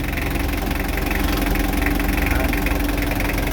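A diesel engine idles steadily after a fuel filter replacement, a continuous low rumble with a faint knocking texture throughout, close and loud with no talk.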